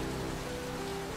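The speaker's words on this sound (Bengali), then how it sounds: "কতদিন পর এমন ঝমঝম করে বৃষ্টি পড়ছে।" Heavy rain pours steadily in a Bengali cartoon scene, a dense continuous hiss of downpour with a low background hum, evenly loud throughout and with no voices.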